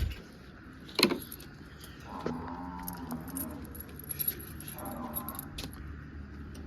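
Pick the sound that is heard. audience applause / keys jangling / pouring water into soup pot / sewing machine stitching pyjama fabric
keys jangling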